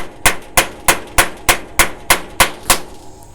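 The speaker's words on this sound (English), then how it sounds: "I smack it and it drives that inside piece out." Nine sharp, evenly spaced hammer blows on a hydraulic lifter from a 225 slant six, the lifter stood upright on a socket to drive the inner piece out. The close, loud metallic strikes come about three per second.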